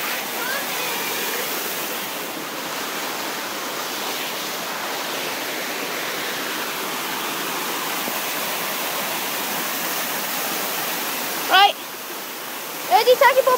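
A waterfall in Hawick gives a steady rushing wash of falling water that fills the scene, with a couple of brief knocks or handling noises near the end.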